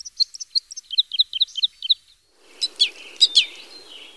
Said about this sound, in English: Crossbills are quite vocal in flight and are almost always seen in flocks.